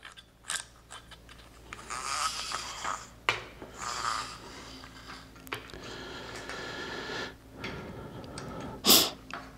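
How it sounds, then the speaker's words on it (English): A drive belt is fed by hand through an idler pulley on a motorized curtain rod, giving soft intermittent rubbing and scraping with small clicks, quiet and close, and a sharper rustle near the end. "this has to feed through the other idler or pulley"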